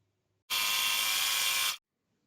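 A sewing machine runs a diamond designer stitch along the edges of joined blue and red fabric for a mat, a single loud, steady whirring burst of about a second, close up and alone.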